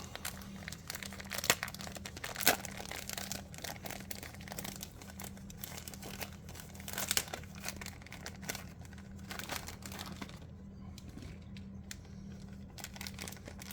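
Plastic parts bag from a Fujimi Lamborghini Murcielago Roadster model kit handled up close, a quiet run of irregular crinkles and crackles with a few sharper rustles, under a faint steady hum.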